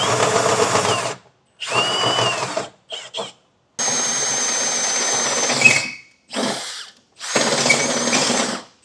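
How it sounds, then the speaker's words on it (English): A power drill runs in several loud bursts separated by short pauses, whining and grinding close by as the bit bores through the corrugated metal bed of a 2025 Ford pickup. "I'm going to use a smaller bit and then drill the rest of the way through the top"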